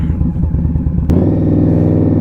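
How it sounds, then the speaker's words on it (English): Indian Scout Bobber motorcycle with a loud engine, a deep throbbing exhaust note that rises sharply partway through and holds strong and steady, close and very loud. "Everyone's looking because the bloody bike's so loud."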